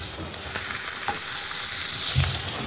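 Pork belly sizzles steadily in a hot pan, a close, continuous frying hiss with a few faint stirring clicks and no talk.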